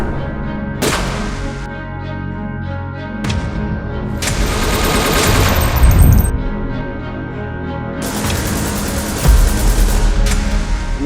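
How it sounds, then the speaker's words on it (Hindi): Intense bursts of gunfire during an attack on a stock exchange come amid dramatic trailer music, with rapid shots, heavy impacts and booms layered over sweeping score and sudden cuts. "फायरिंग की शदीद आवाज़ें आना शुरू हुई।"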